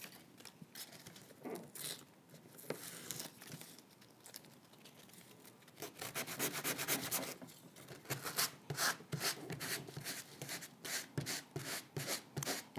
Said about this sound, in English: and use my sanding block.